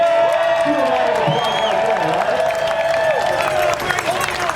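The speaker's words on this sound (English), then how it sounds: "let's do a round of applause" A protest crowd at the Reopen San Diego rally breaks into a round of applause with clapping and cheering, loud and close, while a voice talks over it.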